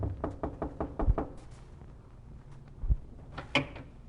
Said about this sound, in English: came down and knocked on the door of her employer's